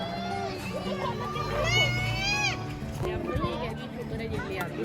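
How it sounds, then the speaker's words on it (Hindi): Children shouting and squealing at play, high excited voices overlapping in a lively, noisy outdoor hubbub. "बच्चे भी चिल्ला रहे हैं।"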